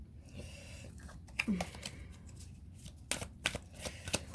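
Playing cards, apparently tarot cards, handled and shuffled close by in a series of soft riffling and slapping bursts, with quiet talk underneath.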